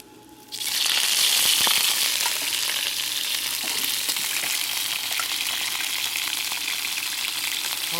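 Chicken wings dropped into a smoking hot wok of oil for browning, a sudden loud sizzle that stays dense and steady at close range for several seconds.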